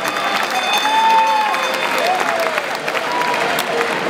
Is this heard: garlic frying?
no